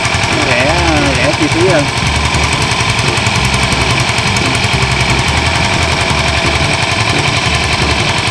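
A mud suction pump driven by a D10 diesel engine in the Mekong Delta countryside chugs loudly and steadily with a rapid knocking beat throughout, while someone talks over it.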